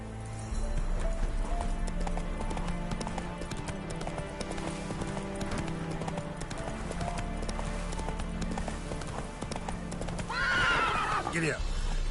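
Roach, a horse in The Witcher 3, gallops with a rapid, continuous clip-clop of hooves over layered game sound and voices, ending with a loud, shrill neigh near the close.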